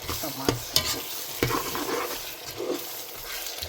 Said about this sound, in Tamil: தக்காளி பழம் வதங்கி கொண்டு இருக்கு